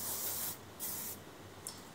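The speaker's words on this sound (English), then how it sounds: "I still want to put some hairspray, I can just" Three short hissing bursts from an aerosol hairspray can, close and fairly soft, with brief pauses between them.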